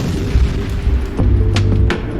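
An explosion inside an explosion chamber produces deep, muffled booms: one short thud early on, then a heavier sustained rumble with sharp crackling bursts near the end.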